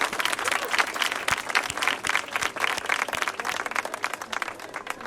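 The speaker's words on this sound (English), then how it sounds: "Big round of applause." Applause for a comedian leaving the stage at a Las Vegas comedy show fills the room, with a dense wash of clapping, a few distinct sharp claps standing out, and a fluctuating level.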